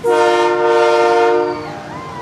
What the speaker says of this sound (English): So the train is the quarter scale model of the General Electric locomotive.